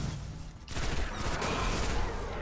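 Grenade attack in the video game Destiny: a sharp burst followed by a dense, rattling spray of explosive crackle that fills the rest of the moment, loud and close with no talking.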